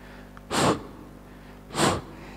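A voice imitates a hospital breathing ventilator with two separate, loud, breathy whooshes, each lasting about a quarter second, with a pause between them.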